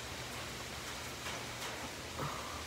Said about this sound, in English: the raindrops are huge.